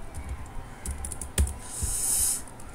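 Typing on a computer keyboard while entering names into a Python program, with scattered soft key clicks, one sharper tap, and a brief hiss later, fairly quiet and without talk.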